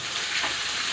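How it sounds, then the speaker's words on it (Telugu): Ginger garlic paste fries in a pan for a Nellore fish curry with a loud, continuous sizzle, close up and without speech. "మంచి కలర్ వచ్చేలాగా దగ్గరగా ఫ్రై అయ్యేలాగా ఫ్రై చేసుకున్నాక ఇంకా 1 టేబుల్ స్పూన్ అల్లం వెల్లుల్లి పేస్ట్ వేసేసుకోవాలి"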